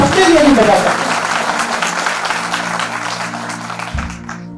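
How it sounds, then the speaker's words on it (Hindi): Crowd of audience members applauding at an event, a broad burst of clapping that starts strong right after a voice and slowly fades, with a sustained tone sounding underneath. "आपसे अनुरोध की जोरदार तालियां एक बार आप अपने लिए भी बजा सकते हैं।"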